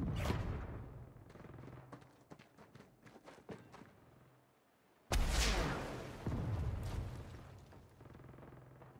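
A cannon fires in the Saints Row video game. Scattered sharp bangs and thumps come first, then one heavy, loud blast with a rolling rumble that fades under more crackling gunfire.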